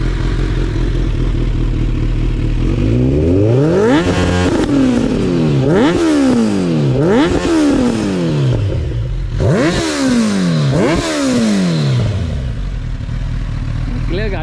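Motorcycle fitted with a Ninja exhaust starts and is blipped repeatedly, with loud, close revs rising and falling in quick bursts between rough idling on a street in Cuttack.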